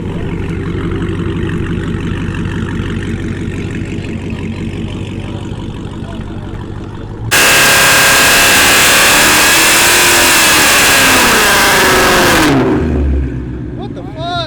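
Chevy SS sedan engine idling at first, then jumping into a loud sustained high-rev roar during a burnout with tire screech, before dropping off suddenly and settling back toward idle.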